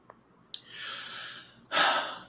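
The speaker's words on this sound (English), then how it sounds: "Breathing hard in the car." Heavy breathing inside a car, with a couple of faint clicks, then one long drawn breath and a louder, sharp exhalation close to the mic, alone.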